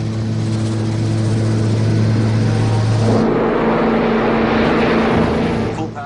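A propeller airliner revs to full power for takeoff in light snow at Munich. A loud, steady engine roar carries droning tones that shift partway through as the power builds.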